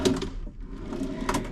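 A short sliding scrape of a drawer moving, then another quick slide, close and fairly loud in a quiet cruise ship stateroom.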